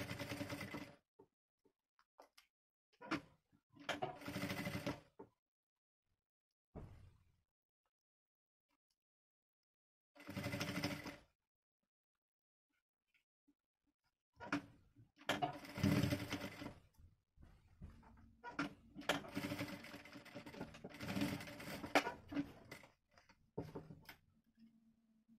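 A sewing machine stitching the head of a toy camel in bursts of a few seconds separated by long silences, with quieter runs at first and longer, louder stretches later.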